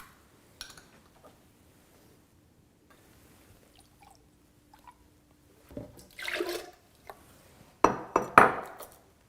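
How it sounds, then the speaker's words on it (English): No-salt-added vegetable juice blend or tomato juice poured into a high-speed blender in a home kitchen: two short, close splashy pours with glassy clinks, separated by near silence. "In a high-speed blender, pour 1 cup of a no salt added vegetable juice blend or no salt added tomato juice."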